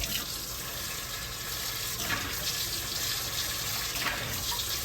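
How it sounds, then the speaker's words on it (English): Water runs steadily into a cooking pot holding celery and onions, a continuous rushing splash with slight surges, close and alone with no voices. "We're going to fill this bad boy up with water."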